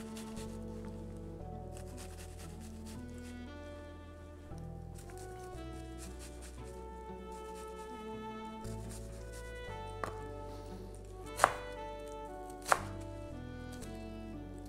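A knife chops onion on a cutting board with soft, quick repeated cuts that sit faint and low under steady background music in a home kitchen, with a couple of sharper knocks near the end.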